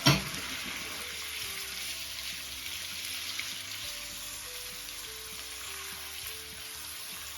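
Shrimp sizzling steadily in a hot pan as part of a white and red sauce spaghetti with seafood, a constant bright frying hiss with faint low stirring bumps, no talk.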